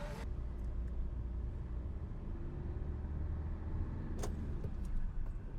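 A three-wheeled vehicle drives along a road past the Muthanga forest check post, its steady low engine rumble and road noise continuous and close throughout, with a brief brighter swish near the end.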